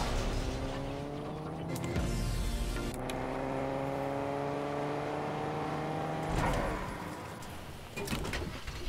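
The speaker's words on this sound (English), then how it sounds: "I'm going to hop in this car and head towards that direction" A car driven in a farm-delivery video game, its engine note rising through gear shifts with steady acceleration and a brief drop between gears, close and fairly loud with ambient bird-like sounds in the background.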